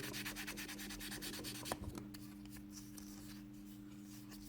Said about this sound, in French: c'est l'ultime ponçage avant la couche définitive de peinture